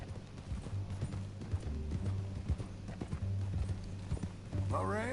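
Horse hooves clip-clop at a steady rhythm in the Red Dead Redemption 2 video game, close and fairly loud beneath a low musical bed, with a brief whinny near the end.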